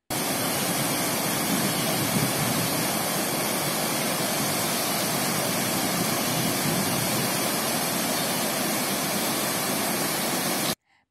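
Water gushes from an opened gate of the Gambhir Dam after heavy rain in the catchment, a loud, steady, unbroken roar of rushing torrent that holds constant before stopping abruptly near the end.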